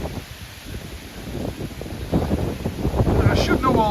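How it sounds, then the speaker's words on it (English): Strong gusting wind ahead of a storm blows across flat open ground by a big airport, rising in force partway through and buffeting the microphone continuously. "when it's windy and a storm's coming, it blows like hell."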